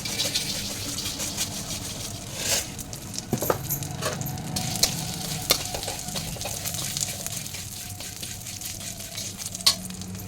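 Vermicelli (semai) fries in ghee in a wok with a steady, dense sizzle and crackle, broken by occasional stirring scrapes and clinks, close and continuous with no talking.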